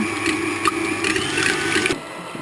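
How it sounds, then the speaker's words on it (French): Egg whites with a pinch of salt being whisked into stiff peaks. A close, continuous mechanical whirring carries rhythmic rattling strokes, then cuts off abruptly near the end. "Je monte les blancs d'œufs en neige avec la pincée de sel."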